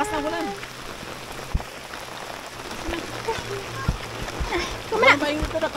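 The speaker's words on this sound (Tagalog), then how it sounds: "Malakas na ulan." Heavy rain pattering on surfaces at a campsite, a steady wash of drops with occasional splashes, while people talk and call out over it.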